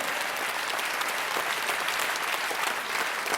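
Audience applause at a comedy show. A full hall claps in a dense, even roar that stays steady and fairly loud from start to finish.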